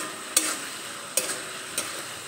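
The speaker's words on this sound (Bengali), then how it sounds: "এবার কিছুক্ষণ নাড়াচাড়া করে নেব।" A spoon scrapes a spice mixture around a pan for a Bengali bhola fish curry with potatoes over a medium flame, giving three short, soft strokes against a low background hiss.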